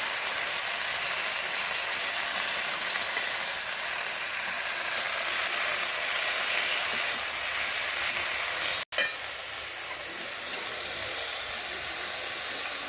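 Vegetables with garlic, chili and salt cooking on a griddle over a wood-fired chulha, giving a steady close sizzling hiss throughout with one brief dropout.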